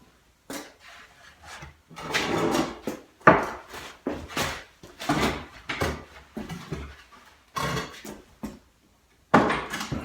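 A wooden folding outfeed table is set onto freshly cut legs, which are then swung open. Irregular close knocks, clunks and scraping bursts come between short silences.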